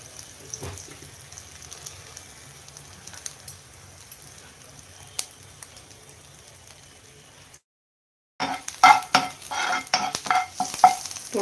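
Finely grated ginger dropped into a pan for methi aloo masala, giving a faint hiss and soft stirring, a brief silence, then louder crackling sizzle with scraping stirs.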